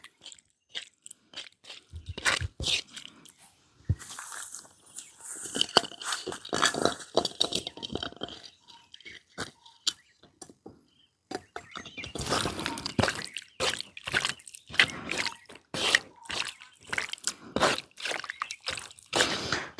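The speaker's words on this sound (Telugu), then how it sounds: "ఇందులో చికెన్ వేసుకొని బాగా కలిపేసుకుందామండి" Raw chicken being mixed by hand with marinade in a bowl for barbecue, giving close, soft wet squishing and slapping sounds in irregular bursts, with a quiet pause in the middle.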